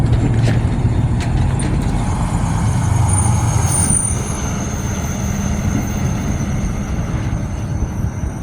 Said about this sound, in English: it's because of all these big trucks coming through that all this widening has to be done